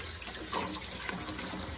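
Cold water running steadily from a tap over a coconut shell being washed in a sink, a constant close splashing rush.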